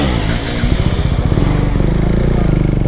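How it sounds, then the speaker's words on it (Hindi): Modified KTM Duke 390 motorcycle with aftermarket exhaust, loud and close, engine throbbing and revving in rapid pulses with crackling pops, no talking over it. "एग्जॉस्ट का फील अभी आप चेक करो, ये क्या बैकफायर दे रही है"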